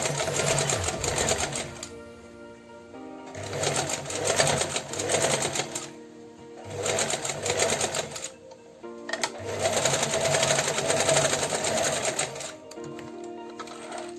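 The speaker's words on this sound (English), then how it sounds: "So let's go ahead and do our straight stitch." A sewing machine runs a straight stitch along a fabric face mask in four long bursts of steady mechanical whirring, separated by short pauses, close and loud with no talking.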